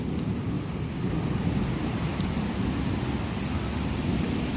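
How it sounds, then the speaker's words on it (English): Rumbling thunder rolls through a storm over the Denver metro, a low, continuous grumble heard at a distance beneath steady rain and wind noise. "There's some thunder activity going on right now here in the Denver metro."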